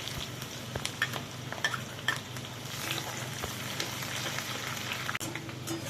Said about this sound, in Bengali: এই যে ভালো করে নাড়িয়ে এটা আমি হালকা ব্রাউন কালারে করে ভেজে নিলাম।